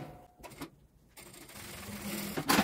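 A sewing machine runs a safety seam along the edge of fabric for a small necessaire kit, in short, close, uneven bursts of mechanical stitching with brief pauses between them.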